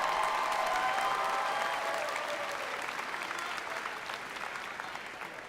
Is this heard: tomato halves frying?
no